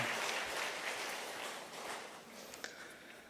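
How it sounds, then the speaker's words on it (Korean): A church congregation at a Wednesday service applauding in praise of Jesus: steady, even clapping from many hands, fairly soft and distant, with no talk over it. "예수님께 영광의 박수를 한 번 더 올려드리겠습니다."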